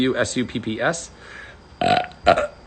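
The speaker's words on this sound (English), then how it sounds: "I'm really failing the burp game tonight" Two loud, close burps come from a man during a relaxed evening livestream, following a stretch of his rapid talking, with a short pause between the belches.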